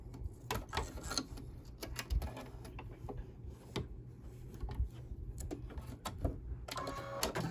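Small yellow flower-center stitches being sewn by an embroidery machine: a steady, fast mechanical ticking and rattling of the needle, close and moderately quiet, running without pause and with no talk.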